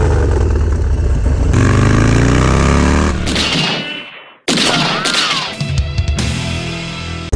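Two 2016 Harley-Davidson Dyna Low Rider S motorcycles riding, engines roaring loud and close with revving and gear changes, a brief drop to near-silence midway, then the engine noise returns with wind buffeting.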